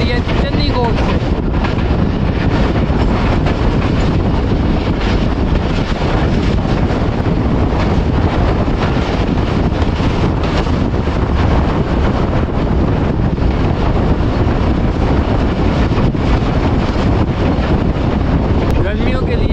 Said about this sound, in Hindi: ऊपर से भी हवा आ रही है, नीचे से भी हवा आ रही है।